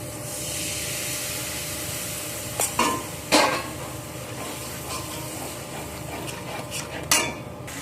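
Water from rinsing the blender jar hits well-cooked spice paste in a pan for a cholar dal or green banana dish, giving a steady broad sizzle with a few sharp bursts and utensil clinks, close and continuous.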